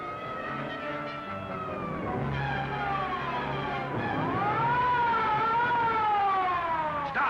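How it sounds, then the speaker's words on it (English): A police car siren wails in a rising and falling pattern from a 1940 Green Hornet serial, loud and sustained as the car trails behind, with a steady engine rumble underneath and no talking. "Police car trailing."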